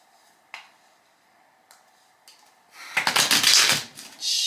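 Tarot cards are shuffled by hand: a few faint taps, then a dense burst of riffling and flapping near the end, fairly close and loud.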